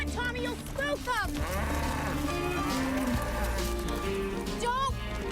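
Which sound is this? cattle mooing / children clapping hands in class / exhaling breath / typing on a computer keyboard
cattle mooing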